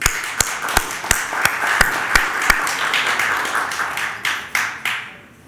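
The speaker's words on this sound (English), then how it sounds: "Let's kickstart the event with a big round of applause for each of us" Guests at an annual dinner giving a round of applause, opening with a string of sharp, evenly spaced claps that blend into steady, moderately loud clapping from a room of people before tapering off at the end.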